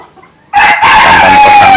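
A Bantam Kosamo, a tiny micro-sized ornamental chicken, crows loudly and close after a brief quiet start, one sustained strained call filling the rest of the moment.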